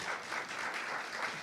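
An audience at a newspaper launch event applauds loudly, a dense, steady wash of clapping that continues throughout without pause.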